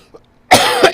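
A single short burst of coughing, loud and close, with a couple of harsh explosive hacks following a faint throat sound, heard alone without talk.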